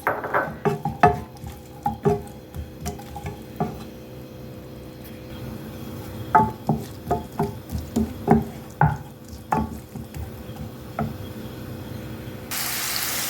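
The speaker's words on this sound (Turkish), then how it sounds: "Soğanlar pembeleşene kadar karıştırıyoruz." Irregular scraping and tapping of a utensil stirring onions in oil in a pan, with a faint sizzle underneath; bursts of stirring separated by quieter pauses, no talking.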